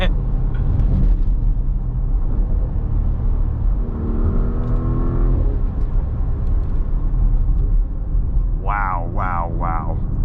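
A 2024 Porsche Cayenne S with its V8 and all-wheel drive on fat 315 rear tires drones steadily from inside the cabin while driving, with a rising whine midway and brief voice bursts near the end.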